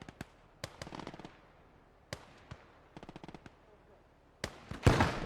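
Grenade explosions and rifle and machine-gun fire in Gates of Hell Ostfront ring out as scattered sharp cracks and short rattling bursts, ending with a louder, nearer blast.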